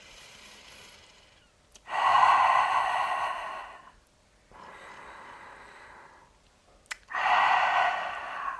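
Deep, loud breaths taken close up during a thoracic breathing exercise, three long airy inhalations and exhalations of a few seconds each, separated by short quiet pauses.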